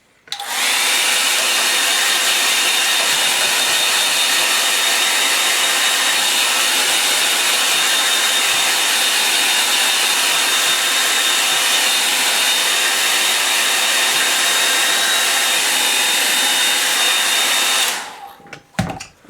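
A hair dryer blows steadily and loudly for about eighteen seconds over a wet landscape painting of Scottish Highland rocks, its constant whooshing roar cutting off abruptly at the end.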